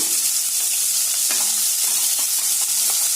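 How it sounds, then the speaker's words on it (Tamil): Cumin and chopped chili sauté in hot ghee for jeera rice in a pressure cooker, giving a bright, constant sizzle with occasional soft stirring scrapes, close and loud, no one speaking. "சேர்த்திட்டு இந்த நெய்யில நல்லா வதக்கி விடுங்க."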